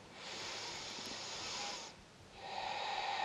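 Slow breaths during a gentle yoga flow, a soft close airy inhale-like hiss that fades, a short pause, then another breath, quiet and without talk.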